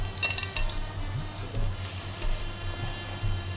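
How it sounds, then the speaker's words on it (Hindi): Batter-coated burger ingredients sputter and crackle as they deep fry in cooking oil, a steady sizzle with a few clinks of utensils near the start and no talk. "डीप फ्राई करने लगी हूँ"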